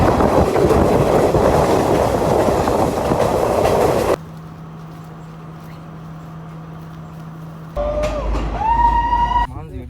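A passenger train on a rail journey rumbles loudly for the first few seconds, then gives way to a quieter steady hum and a rising tonal whine near the end, with voices faintly present.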